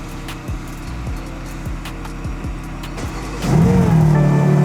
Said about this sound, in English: my car hasn't been started in forever, and now it's finally started